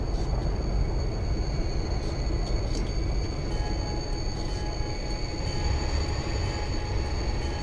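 An FL9 locomotive on the Springfield Line in Train Simulator 2016 rumbles along steadily with a continuous low roar, high metallic whine and occasional faint clicks; no talking.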